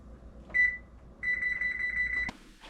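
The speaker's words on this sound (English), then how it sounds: "we're going to set our timer for 10 minutes" Kitchen oven timer going off while fish cooks: a short single beep, a pause, then a longer run of rapid high electronic beeps that cuts off abruptly, with light background clatter.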